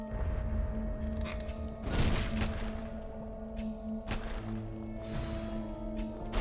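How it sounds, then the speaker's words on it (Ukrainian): Gunfire aimed at the player in the video game Book of Demons: a couple of sharp crashing bursts stand out over steady game music and hum, with no speech. "Мене там хтось стріляє."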